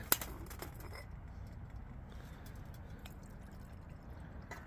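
Water runs into a pot on a camping stove, a quiet trickling and dripping pour. A brief clatter opens it, then a faint, steady flow continues for several seconds, close by and without talk.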